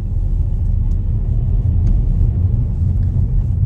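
A car on a driving test route moves off from a parked position, its engine a steady low rumble close by with no talk over it.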